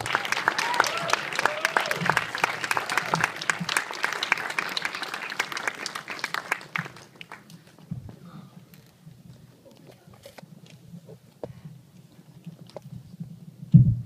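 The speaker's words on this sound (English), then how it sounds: "Give him a round of applause." An audience applauds at a film Q&A with the director, a crowd clapping fairly near for about seven seconds before the clapping thins to scattered claps and faint room sounds.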